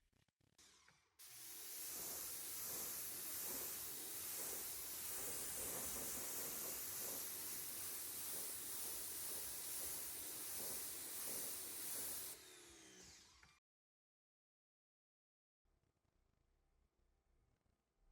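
A pressure spray of water rinses a car during a wash and decon, a loud continuous hiss running for about eleven seconds before cutting off abruptly, followed by silence and faint background noise.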